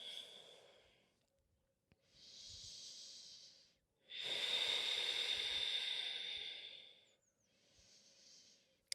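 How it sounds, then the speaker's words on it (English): Slow, steady breaths during a yoga pyramid pose, each long airy inhale and exhale rising and falling in a soft hiss, close and quiet, with short pauses between breaths. "Slow, steady breath here"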